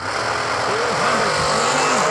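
Drag racing cars launching down a racetrack at a New Year Nationals event, a loud continuous engine roar with rising and falling revs, heard from trackside.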